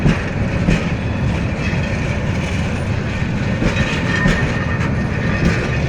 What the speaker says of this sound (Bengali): জামালপুর কমিউনিটি ট্রেনটি এগারোটা পনেরো মিনিটে জয়দেবপুর স্টেশন থেকে ছেড়ে যাবে